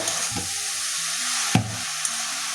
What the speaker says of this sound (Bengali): ভালো করে মিশিয়ে ঢাকা দিয়ে রান্না করে নেব